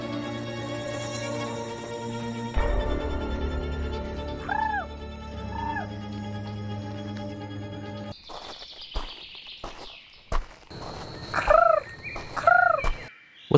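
A movie character's deliberately bad imitation of a bird call gives a few warbling, gobble-like whistled hoots, heard twice early and again louder later over a tense film score.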